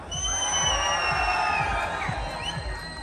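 A concert crowd in Andijan cheers and applauds. The sound is a dense, continuous roar of shouts and whoops, with a few shrill whistles rising above it.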